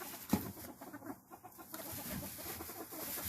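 Rooster kept alongside a drake and silkie chickens, clucking softly at close range in a few short bursts over a noisy background, with no talking.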